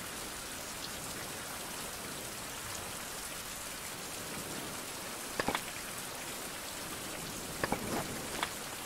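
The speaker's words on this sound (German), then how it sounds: "Du, es regnet." Steady video game rain in Survival Craft patters on a surface, a soft continuous hiss with a few louder drips near the end.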